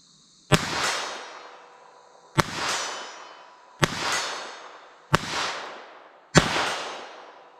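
Five sharp gunshots from a Taurus TX22 .22 LR pistol fired at a 50-yard target, evenly spaced about a second and a half apart, each a loud crack with a short decaying tail, no talk between shots.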